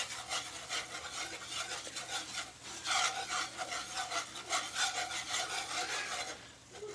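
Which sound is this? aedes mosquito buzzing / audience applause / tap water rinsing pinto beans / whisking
whisking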